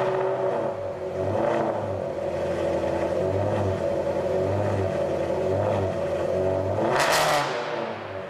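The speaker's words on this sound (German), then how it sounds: "Es ist Musik und die 8-Zylinder machen eine wunderbare Musik." A Maserati V8 engine rumbles loudly and steadily close by, with deep pulsing exhaust tones that rise and fall through repeated revs, ending in a sharp, bright surge near the close.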